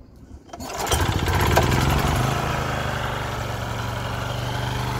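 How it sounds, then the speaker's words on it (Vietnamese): A Japanese domestic OHV engine on a mini tiller starts after a brief pull and settles into a loud, steady, close idle, with a rattly putter throughout. "sẽ nổ máy lên cho quý vị xem tiếng máy"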